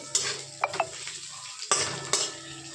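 Onions fry in a pan with a constant soft sizzle, and a utensil scrapes and clinks against the pan several times as they are stirred.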